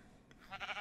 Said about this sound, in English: I should probably get some wheat for these sheep.